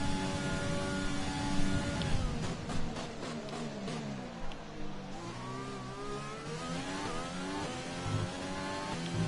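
Formula 1 car engine at Bahrain in F1 2020 during qualifying, high revving whine climbing and dropping through gear changes, steady and fairly close, no voices.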